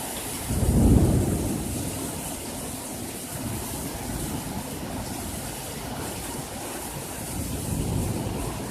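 A thunderstorm with hail and steady rain on surfaces, broken by a deep rolling thunder rumble early on and a fainter one near the end.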